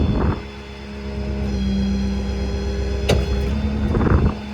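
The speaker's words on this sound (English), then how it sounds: "I'm gonna go ahead and operate the outriggers" Hydraulic outriggers extending on a 2019 Ford F-550 4WD crane truck with a Stellar TMAX service body, a sustained whining hum over the idling diesel with a sharp clunk midway and engine surges at each end.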